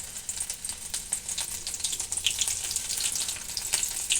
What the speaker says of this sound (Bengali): এবার ওই তেলের মধ্যে আমি 4টা রসুনের কোয়া, বেশ বড় বড়ই রসুনের কোয়াগুলো কুচি করে দিয়ে দিলাম।